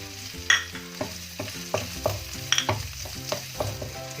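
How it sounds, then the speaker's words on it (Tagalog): Onion, garlic and ginger sizzle in a pan for chicken adobo with coconut milk, with a utensil stirring and scraping in quick, uneven strokes roughly every half second over a continuous close frying hiss. "Keep mixing or stirring the onion and garlic."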